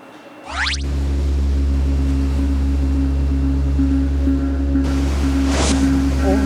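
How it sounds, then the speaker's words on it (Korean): Strong sea waves and gusty wind at a beach in Jeju, a loud, steady roar and rumble that starts abruptly and runs continuously, with a brief wash of surf near the end and no clear talk. "파도가 고세졌네요. 뭐 바람도 아주 그냥 심하게 팔랑팔랑 거리네요"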